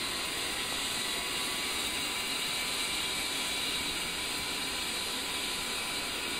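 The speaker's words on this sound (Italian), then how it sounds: "stiamo ancora un po' così si scaldano bene i motori" Twin jet engines of an A-10C Warthog warming up in the DCS World flight simulator, a steady, unbroken turbine whine and broadband hiss holding at constant loudness throughout.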